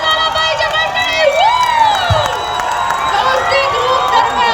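Spectators at a Dahi Handi human-pyramid festival raise a sustained, loud cheer, with whistling and shouting voices over a steady crowd roar.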